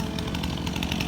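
A chainsaw cuts through storm debris after a hurricane, a loud, close, buzzing two-stroke snarl running continuously with slight pulsing as it bites.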